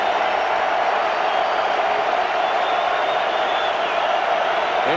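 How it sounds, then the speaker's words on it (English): A college football student section roars before a 3rd down at a Michigan vs. Michigan State game, a dense, steady wall of crowd noise at full volume throughout. "The student section off to our left. And they'll be making noise before this 3rd down."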